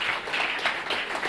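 Audience applause at a live media event in Kenya honouring journalists: a steady, moderately loud wash of many hands clapping together, with no voices on top.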